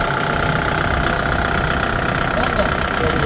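A Kubota MU5502 tractor's diesel engine idles steadily and loudly throughout, a constant mid-pitched rumble with no pauses.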